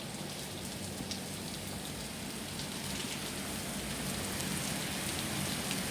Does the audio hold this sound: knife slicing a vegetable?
no